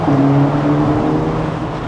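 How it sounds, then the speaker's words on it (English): A Ferrari Roma Spider's V8 engine runs with a steady, loud low rumble and faint rising tonal lines, close by, with no talking. "And you hear from the V8 for sure."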